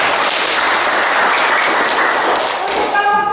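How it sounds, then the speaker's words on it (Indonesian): Classroom applause for a winning student group during a vegetable garden bed lesson, a dense, loud wash of clapping that holds steady for the whole stretch with a few voices mixed in near the end. "Beri tepuk tangan."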